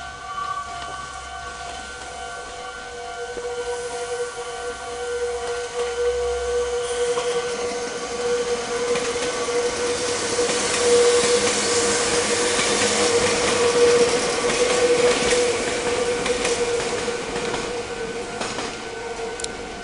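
A Meitetsu train pulls out of the depot and rolls into Inuyama station, near the junction of the Komaki and Hiromi lines, its steady rumble and wheel noise swelling toward the middle and staying loud to the end, with no voices.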